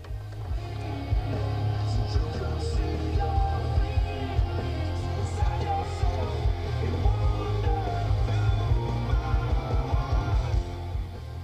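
Rock music plays through the Harman Kardon stereo of a 2011 MINI Cooper S, heavy bass and drums driving steadily throughout, with guitars and vocals layered above.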